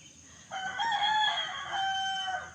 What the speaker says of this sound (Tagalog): Tinan mo, naka-tigtilaok pa ang manok.